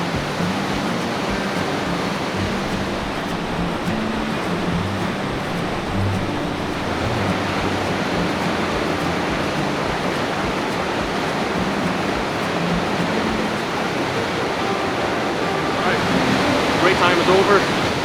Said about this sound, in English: enjoy the waterfall